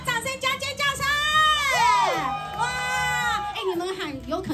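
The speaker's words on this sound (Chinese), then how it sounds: "掌声加尖叫声！" An audience at a Rakuten Girls cheerleader promotional event for a new building development in Qiaotou erupts in loud, sustained high-pitched screaming and cheering, with overlapping shrill voices rising and falling, likely mixed with clapping, for several seconds.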